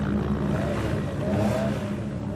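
Steady engine drone from a car with a small 1.6 litre engine, a constant moderately loud hum with a slight rising tone, heard from inside the cabin and without talk.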